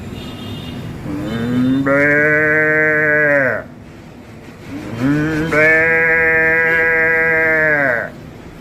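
A man vocally imitates a calf lowing, giving two long drawn-out bleating calls, each about two seconds, close and loud with no other talk.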